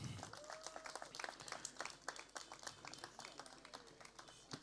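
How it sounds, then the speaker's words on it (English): Scattered clapping from an audience at a cultural event in Accra, uneven and fairly faint, with a few individual sharp claps standing out over a quiet room. "Let's receive them all with an applause, please."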